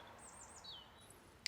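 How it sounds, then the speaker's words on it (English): Faint birds chirping and whistling in the distance, a few soft high calls over a quiet background hush. "listen to the birds"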